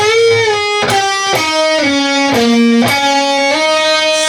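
A loud electric guitar plays a short riff, sustained notes with pitch bends and slides between them, and no voices.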